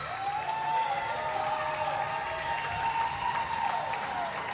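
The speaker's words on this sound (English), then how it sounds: "And you can hear the fans cheering on." Ringette crowd in an indoor arena, a broad wash of fans clapping and cheering at moderate distance, continuous and fairly soft, with a tonal whistle-like line running through it.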